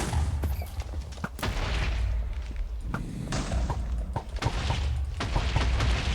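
Repeated booming explosions from a custom enchantment in Minecraft, a rapid series of loud blasts and thuds in close succession with rumbling between them, no talk over them.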